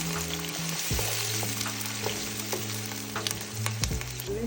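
Chopped onions and a bay leaf fry in a pot for Ghanaian jollof rice, giving a steady close sizzle with scraping stirs throughout.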